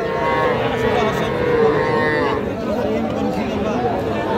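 A young Nepali Gir heifer calf moos in long, drawn-out calls at the busy Aftabganj cattle market, heard close over a background of people talking and market chatter.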